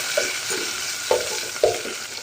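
Ginger, green chili, mint and coriander fry in hot oil, giving a constant close hiss and sizzle. A spoon scrapes and stirs the pan in about three sharp knocks, and there are no voices.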